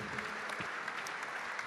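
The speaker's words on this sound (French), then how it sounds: "On va vous remettre donc le trophée sous vos applaudissements, s'il vous plaît." Applause at a French gastronomy and wine awards ceremony as a hospitality trophy is handed over, a steady wash of clapping from a seated audience, moderately distant and continuous without a voice over it.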